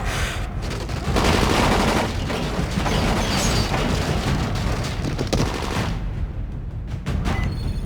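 Heavy gunfire rattles almost continuously through a Dying Light video game cutscene, dense overlapping shots and booms held at a loud, steady level for several seconds.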